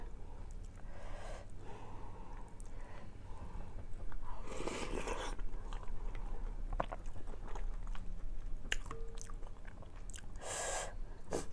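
Close-up chewing and biting of udon noodles with crispy tempura, moist mastication punctuated by crunchy bites, sniffs and breaths, with brief bits of talk between mouthfuls.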